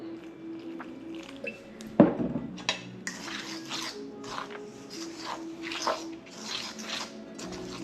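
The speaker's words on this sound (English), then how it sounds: "I'll get a cup where I could pour some water in here." After a clink of dishware, water pours into a cup in several splashy bursts, fairly close and moderately quiet, with faint clattering around it.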